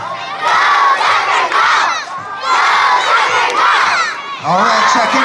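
A school assembly crowd of children cheers and shouts loudly for a BMX show, with bursts of high excited yelling that swell, dip briefly and surge again, close and energetic.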